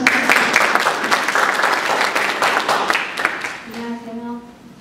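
Audience applause at a Korean community presentation on domestic violence, a dense steady wash of clapping from many hands that thins and fades near the end as a voice begins over it.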